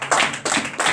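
Congregation at a morning prayer service clapping in acclamation, three quick bursts of hand claps close by, with no voices.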